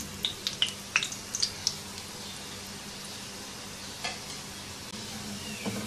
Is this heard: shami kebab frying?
yes